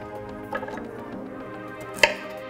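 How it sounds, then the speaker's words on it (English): A knife cutting cauliflower florets apart, a couple of close crisp snaps and chops over quiet background, the sharpest one near the end. "Cutting pieces apart."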